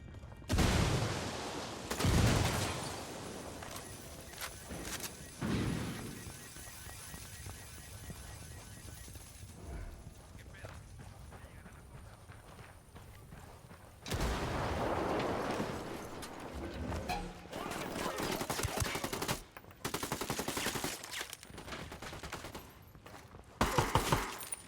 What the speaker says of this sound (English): Taking fire from inside the casino.